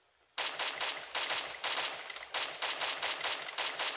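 M4A1 gunfire in the Free Fire video game, rapid automatic bursts in several clustered volleys over four seconds, loud and close with no talk.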